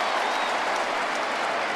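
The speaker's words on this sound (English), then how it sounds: "The roof is open, but the crowd is really into it." A dense, continuous roar of a large football stadium crowd cheering during an NFL game between the Patriots and Colts, with the roof open, loud and sustained throughout.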